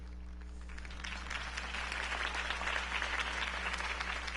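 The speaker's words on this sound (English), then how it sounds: "could have heard that applause" Crowd applause after a campaign speech for Harvey Dent in the Batman Telltale video game. Many hands clap in a steady, swelling wash, over a constant low hum.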